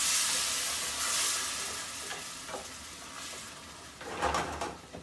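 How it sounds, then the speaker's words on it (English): Wine cooks down with paprika in a hot pan for a Hungarian dish, giving a bright, loud sizzle that fades gradually, with a few stirring scrapes and a renewed burst of hissing near the end. "I'm going to let the wine cook out"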